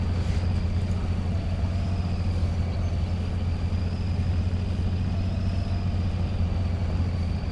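A heavy truck engine in Spintires MudRunner holds high revs in high gear, a loud, steady low drone with a constant tone running unbroken throughout.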